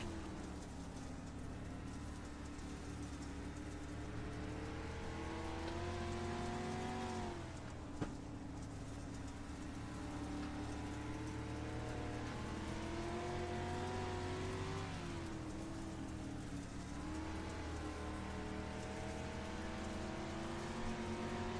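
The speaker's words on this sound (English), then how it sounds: "Nice and easy there on the throttle for that 42 NT machine as he rolls right behind our race leader" Onboard a dirt street stock race car numbered 42 NT, the engine drones steadily at a loud, sustained level, its pitch rising and falling smoothly as the throttle is eased on and off, with no talking over it.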